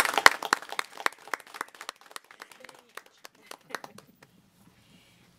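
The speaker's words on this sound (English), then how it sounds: "I think that deserves a round of applause" A small group at a county board of commissioners meeting gives a brief round of applause. Sharp, scattered claps are dense at first, then thin out and fade to silence within about four seconds.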